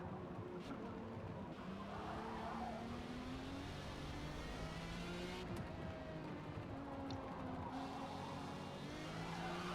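A race car engine drones continuously during a Forza Motorsport multiplayer race, its pitch rising and falling with gear changes, faint tire squeal mixed in, all moderately quiet and with no speech.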